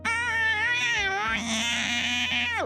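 A person imitates a cat's cry with a long, loud, wavering yowl that slides in pitch and ends with a downward fall, heard alone and up close.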